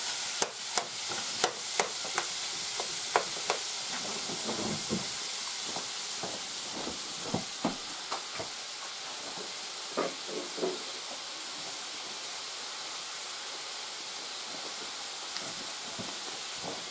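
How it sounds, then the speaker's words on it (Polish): Bacon fries in a pan ahead of scrambled eggs, giving a soft continuous hiss with scattered pops and spits throughout, fairly quiet and close, with no talk. "Żeby się nie przypaliło. Musi tłuszczyk puszczać, boczek. A boczek puści tłuszczyk."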